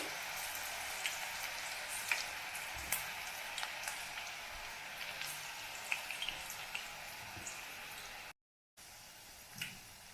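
Onion pakoda frying in oil in a pan on a gas stove over low flame, a faint steady sizzle with scattered small pops and crackles throughout, no voices.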